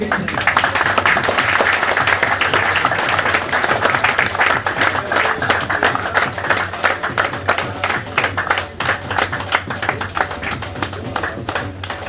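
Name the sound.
audience applause at a cricket trophy event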